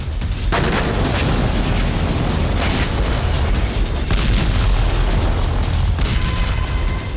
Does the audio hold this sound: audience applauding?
no